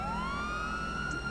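A police car siren in the video game GTA V with the LSPDFR mod gives a single rising wail that climbs and holds, loud and close over a low engine rumble.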